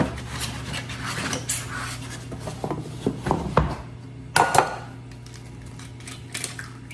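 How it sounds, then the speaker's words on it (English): Eggs are cracked into a bowl in a kitchen, producing a series of close, sharp taps and light knocks with soft clatter between them. "And I'm breaking them in here just to make sure they're okay."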